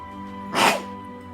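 A single sharp sneeze bursts out over a quiet room tone and is over in a fraction of a second.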